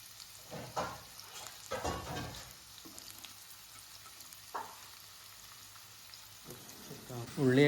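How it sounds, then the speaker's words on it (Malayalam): Sliced red onions fry in hot oil with a soft, low sizzle, broken by stirring scrapes and louder crackling bursts, and a sharper clatter comes near the end. "നമുക്ക് ഉള്ളി ഒന്ന് പൊരിച്ചെടുക്കാനുണ്ട്."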